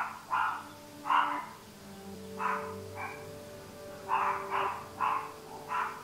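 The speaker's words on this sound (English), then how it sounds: "I'm surrounded by barking dogs" Several dogs bark in short, spaced bursts at moderate distance, some barks doubled, against a faint steady hum.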